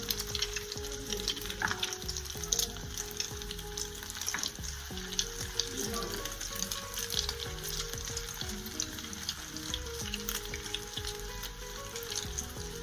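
Stuffed potato bread rolls fry in hot oil with a dense, steady sizzle and crackle, accompanied by scattered soft clinks and handling sounds close by.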